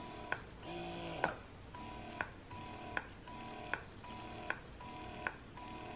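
An affordable wearable breast pump runs at its highest level 9, giving a regular pattern of soft whirring suction cycles, each ending in a sharp click roughly every three-quarters of a second, quiet and close with no speech.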